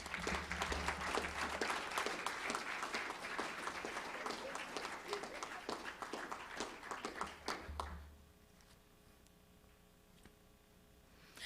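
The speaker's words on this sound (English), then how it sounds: "give a warm round of applause, a Delaware round of applause to Imani" An audience at a Delaware workforce event applauds warmly for a student speaker, dense sustained clapping for about eight seconds before it stops abruptly, leaving quiet room tone.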